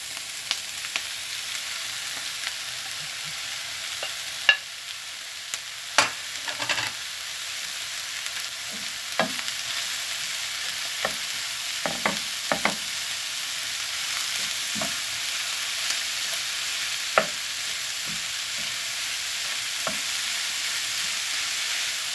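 Minced meat fries with melted onions in a pan for bolognese, a soft continuous sizzle broken by scattered scraping and stirring knocks.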